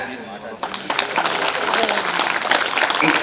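A group at a Yoga Day session bursts into dense, sustained clapping as clapping therapy, starting abruptly after a short quiet moment and building into loud, continuous applause with voices mixed in.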